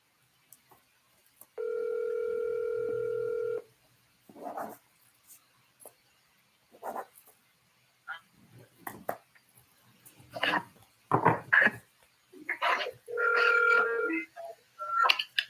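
A steady electronic phone ringing tone sounds twice on a call line, each ring lasting about two seconds, with faint murmuring voices and small noises in between.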